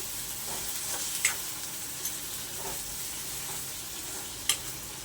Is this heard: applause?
no